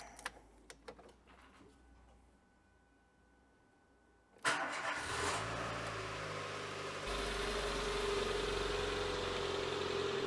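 A Renault Clio 1.2 16v, just fitted with a new timing belt, cranks and starts after a few clicks and near silence, then settles into a steady idle that rises slightly in level partway through, close and continuous.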